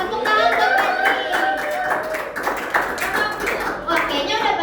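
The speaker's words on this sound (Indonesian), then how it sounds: "Tepuk tangan untuk Fajri." A children's class claps hands together during a game-based learning lesson, producing a dense, steady patter of many claps mixed with children's voices chattering over it throughout.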